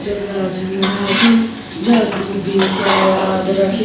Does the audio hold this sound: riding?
no